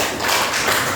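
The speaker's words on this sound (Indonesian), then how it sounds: "Tepuk tangan lagi buat kawan kita." Children in a classroom clap their hands in a brief, dense flurry of overlapping claps, close and fairly loud, with no talking over it.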